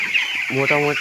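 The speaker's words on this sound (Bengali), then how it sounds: "সব মুরগি চলে এসছে" Chickens clucking in a coop, a close hen's repeated throaty clucks over a bright background chorus of birds, with a brief spoken word.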